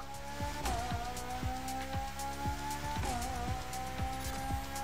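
A Ferrari revs hard in The Crew Motorfest racing game, its engine note climbing and dropping through gear shifts while tires squeal and skid in repeated bursts, loud and continuous with no talk.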